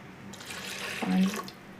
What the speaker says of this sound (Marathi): त्यांना स्वच्छ धुवून घेते.